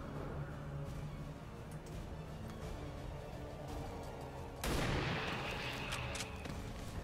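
Gunfire from XCOM 2: War of the Chosen as soldiers shoot zombies, a dense rumbling game soundscape with a loud sharp burst of shots near the end, no talking.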